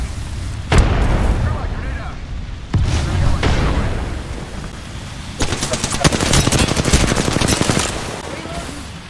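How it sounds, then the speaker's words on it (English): Enemy gunfire in the video game Apex Legends: loud, close bursts of rapid automatic fire and sharp single shots, broken up by heavy booms and short quieter gaps. "The enemies are shooting at me."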